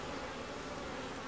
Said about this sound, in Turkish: Üst katta da biraz arı var.